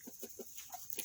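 A few quick, quiet clucks from chickens in a short rhythmic series, faint and close.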